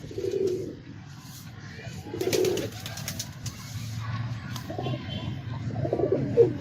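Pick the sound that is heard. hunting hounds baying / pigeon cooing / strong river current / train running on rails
pigeon cooing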